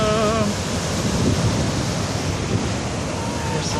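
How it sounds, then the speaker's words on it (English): Ocean waves break at Steamer Lane in Santa Cruz on a big surf day, a loud, continuous roaring wash of surf with wind buffeting the microphone, heard alone without talk. "There's some waves."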